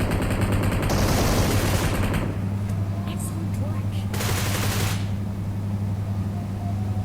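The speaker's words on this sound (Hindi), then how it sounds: "अब मैं DP निकालूंगा, DP से मारूंगा" DP light machine gun fire in the PUBG Mobile game, one dense burst of rapid shots at the start and a shorter burst a few seconds later, loud and close over a constant engine-like game hum.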